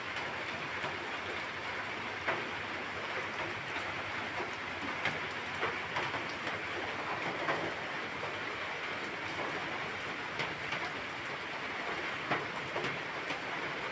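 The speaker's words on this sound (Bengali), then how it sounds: "সকালবেলায় বৃষ্টি।" Morning rain falling steadily, a faint, even patter with scattered drop ticks that continues for the whole stretch without voices.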